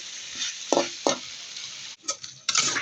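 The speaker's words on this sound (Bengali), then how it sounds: "এখন দিয়ে দিব ফুলকপি আলু এগুলো ভালো করে দিয়ে দিলাম। ভালো করে নাড়াচাড়া দিয়ে" Cauliflower and potatoes sizzle in a frying pan while a spoon stirs them, with a steady hiss broken by a few scraping strokes against the pan, close and clear.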